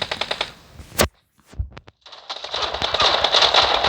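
Gunfire from a weapon in the video game PUBG comes as rapid bursts of shots, then a short quiet gap with a few isolated cracks, then a dense, sustained stretch of firing and game noise.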